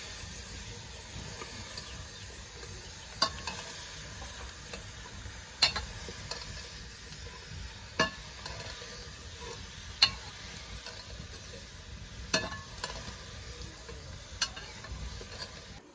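Vegetables stirred and fried in a pan in a Pakistani village kitchen: a steady sizzling hiss with a regular scrape or clack of the spoon every couple of seconds, no voices.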